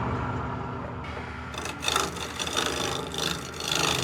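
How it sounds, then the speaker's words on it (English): A wood lathe turns a chair part while a large gouge roughs it out, a steady rough scraping and rubbing of wood that swells into louder cutting bursts about halfway through, close and continuous without talk. "I'll use this large gouge right here for roughing it out. I'm going to turn it on here."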